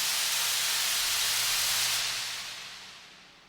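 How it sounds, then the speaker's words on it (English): Dense, crackly hiss, like broken tape, holds steady and bright, then fades downward over a couple of seconds. "it transitions into this broken tape noise that I use as a kind of riser"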